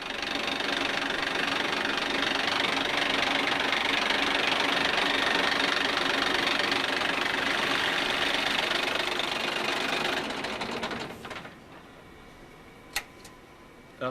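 The engine of a city bus reported for overheating runs inside a repair workshop, a steady rumble with a ticking, knocking beat that cuts off near the end, leaving quiet shop noise and a sharp click.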